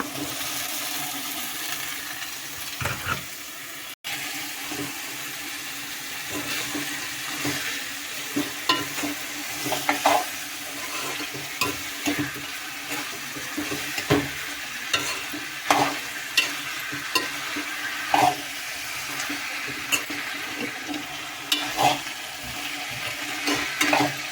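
Broad beans cook in a pan with salt under a constant soft sizzle, with scattered stirring scrapes and clicks of a spoon against the pan throughout.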